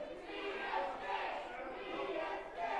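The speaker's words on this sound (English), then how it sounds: "Crowd clamoring for BSJ." Crowd at an indoor wrestling show clamoring for a wrestler, a dense continuous roar of cheering voices that swells and ebbs.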